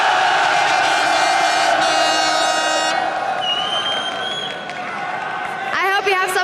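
A large esports arena crowd at a League of Legends match cheers, whoops and applauds in a loud, dense roar that thins slightly midway before swelling again, with an announcer's voice and other voices audible over it.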